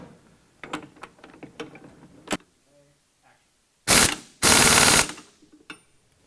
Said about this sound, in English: Now we can tighten up the 3/4 inch bolt on the tie rod bracket all the way.